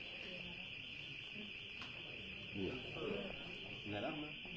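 A car alarm sounds during a mayor's New Year greetings event, holding a steady high-pitched electronic tone throughout. It is faint and distant, and indistinct voices murmur over it in the room.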